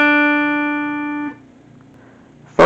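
Clean electric guitar plays a short held note or chord ringing out for over a second, then cuts off into near silence before a sharp pluck at the end; the opening section of a riff.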